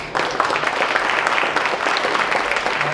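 Audience applause fills a room for the City of Ste. Genevieve, a dense, steady wash of many hands clapping at close range and holding level throughout, with no voices on top.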